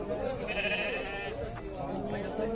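Sheep bleat at a livestock bazaar, one drawn-out wavering call rising clearly above a dense background of crowd chatter and bargaining voices.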